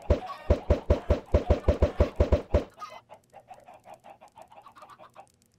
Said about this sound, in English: Can chickens climb ladders?